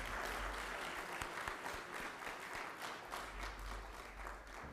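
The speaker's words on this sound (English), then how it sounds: "Let us have a big round of applause for CA Viva Padalkar." Audience applause at an insurance seminar: steady, dense clapping from a large crowd filling the whole stretch at moderate level, with no voices over it.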